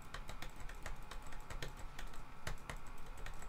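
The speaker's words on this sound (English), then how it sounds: "Just keep left clicking." A computer mouse is left-clicked rapidly and continuously in a steady, dense patter of small clicks, close and fairly quiet, with no voices.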